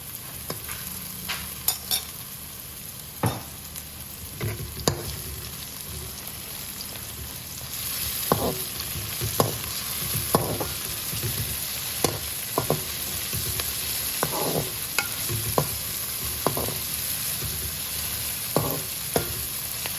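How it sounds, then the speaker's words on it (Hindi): Browned onion frying with garlic and ginger paste, a constant hissing sizzle from the pan broken by repeated scraping strokes and spoon taps as it is stirred, close and fairly loud with no voices. "अब इसमें लहसुन और अदरक का पेस्ट डाल दें। इसको अच्छी तरह मिक्स कर लें।"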